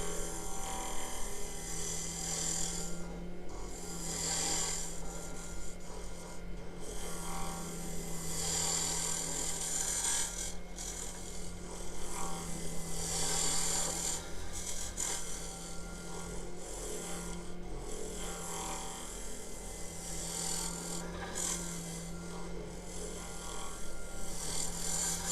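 A woodturning tool hollows out wood on a lathe in a shed. Continuous rough scraping and rasping rides over a low, steady motor hum for the whole stretch, with no talking.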